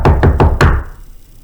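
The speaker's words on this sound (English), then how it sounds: "and he knocks on their door." Four sharp, loud knocks on a wooden door, evenly spaced in quick succession, the last ringing out before silence.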